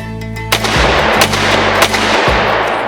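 Sharp gunshots from a Ronin 10mm pistol, two or three loud close reports spaced about a second apart over a steady low background hum.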